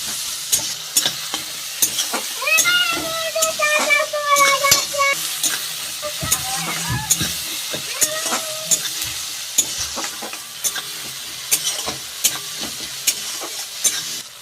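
Tomatoes and onions fry with salt in oil for a Bengali tilapia curry, giving a steady close sizzle, scraped and stirred by a spatula with clinks against the pan and no talk.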